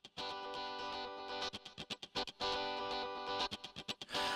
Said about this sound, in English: The guitar is already using one of the 4 insert effects, a distortion effect.